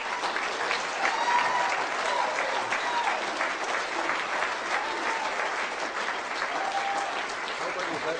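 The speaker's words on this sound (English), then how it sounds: "please put your hands together for a thunderous applause for Mr." An audience greets the speaker Jordan Maxwell with loud, sustained applause, a dense crowd of clapping hands rolling on for several seconds, with scattered voices and cheers mixed in.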